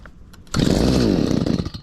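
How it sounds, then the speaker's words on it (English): Small two-stroke engine of a hedge trimmer catching from a cold start with half choke, a short pull-start rattle followed by a loud, buzzing roar that holds steady, close up. "and then we start it up."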